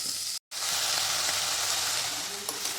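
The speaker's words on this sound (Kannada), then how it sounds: "ಸ್ವಲ್ಪ ಈರುಳ್ಳಿ ಆದಮೇಲೆ ಹೀರೆಕಾಯಿ ಹಾಕಿ ಸ್ವಲ್ಪ ಬಾಡಿಸಿ" Ridge gourd sautés with onions in a pan, giving a loud, close, continuous sizzle with a light stirring scrape near the end and a brief silent gap early on.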